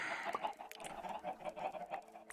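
Chickens at a ranch's chicken farm clucking in a quick, uneven series of soft calls, faint and close, with no other sound behind them.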